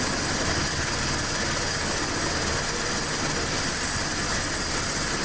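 Steady, quiet idle of a 1979 Triumph Spitfire engine, an even continuous hum with a thin high-pitched whine layered over it, unchanging throughout and with no voices.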